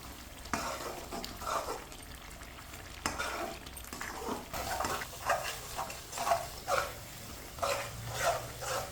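A spoon stirs moong dal halwa cooking in a pan, giving soft repeated scraping and gentle sizzling strokes in a steady rhythm, close and moderately quiet.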